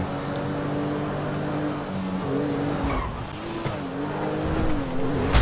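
A car is driven in Grand Theft Auto V, its engine droning steadily with rising and falling revs and tire noise through curves, moderately loud and continuous, with a louder burst at the end and no talk.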